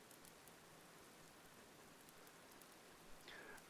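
Steady rain patters in the survival game Sapiens, a soft continuous hiss of drops with a few brighter splashes near the end.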